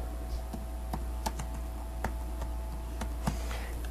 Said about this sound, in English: what I usually do is I just type in weird holidays